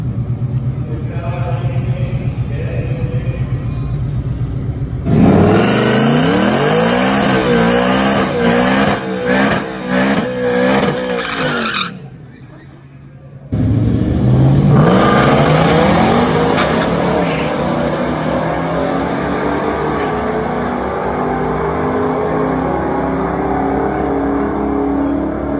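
A 2019 Ford Mustang GT makes a drag racing pass: the loud engine revs hard and roars through the gears with a brief drop as it shifts, then keeps thundering close by, with people talking underneath.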